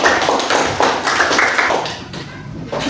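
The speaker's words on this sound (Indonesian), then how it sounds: "Beri tepuk tangan untuk kelompok 3." Classroom clapping for a student group, a small cluster of hands beating in uneven bursts that fade briefly before a last few claps.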